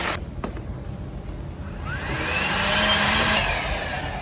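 An electric pump starts up and inflates an Alpacka packraft, a loud, steady motorized whir that rises in pitch and strains as the load builds, close by with a few clicks just before it starts.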